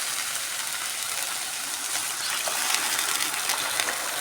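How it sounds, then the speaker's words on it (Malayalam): Curry pours steadily into a cooking pan holding a spiced meat masala, making a continuous close gushing, splashing sound with no voices. "ആ കറി നമുക്ക് ഫുള്ളായിട്ട് ഇതിൽ ഒഴിച്ച് കൊടുക്കാം"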